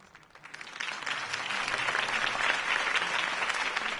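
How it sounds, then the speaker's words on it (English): A crowd applauds a campaign speech, the clapping swelling from a quiet start into a loud, dense, sustained ovation with no talk over it. "could have heard that applause"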